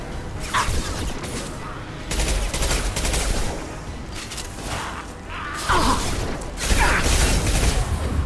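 Rapid gunfire in Mass Effect 2 combat, loud close bursts of automatic shots and booming impacts repeating in clusters, with mechanical clatter between volleys.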